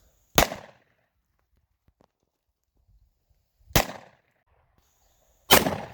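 Three sharp, loud gunshots from a Ruger LC9s Pro pistol, fired alone with long irregular pauses between them at an outdoor range, each crack decaying quickly.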